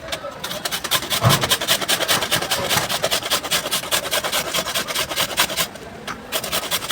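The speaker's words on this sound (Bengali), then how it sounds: "এবার আমি গ্রেটার দিয়ে একটু ভালো করে গ্রেট করব" Raw mango being grated on the large side of a grater, a steady run of rapid, rhythmic rasping strokes close up, each scrape repeating evenly throughout.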